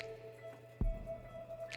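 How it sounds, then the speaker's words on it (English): A single water drip splashes from a disconnected Fluval FX6 canister filter hose, a close, wet plop against a quiet background with faint lingering trickle. "any of the water that is going to come out or leak out of the hoses as I slowly disconnect them"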